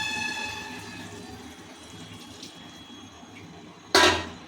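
Masala-washed water goes into a hot cooking pot. A low steady hum with faint tones runs until a sudden loud splashing hiss bursts in near the end and quickly fades.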